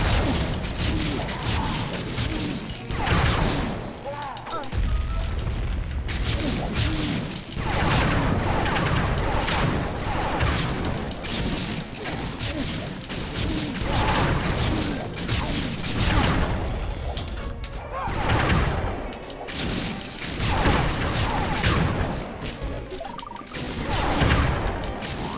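Video game gunfire in Sly 3's Mugshot boss fight: steady, dense bursts of shots and impacts run nearly nonstop, loud and busy under game music and effects.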